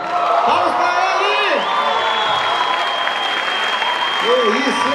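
Lively applause and cheering greet a famous Brazilian viola player at a gospel praise show, with whoops and shouts over steady clapping and sustained musical tones underneath.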